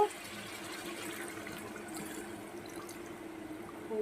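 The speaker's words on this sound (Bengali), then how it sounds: "এই পর্যায়ে আমি পরিমাণ মতন জল দিয়ে দেবো" Water being poured into a cooking pan of potatoes and pointed gourd, a soft steady pouring and trickling sound at low level throughout.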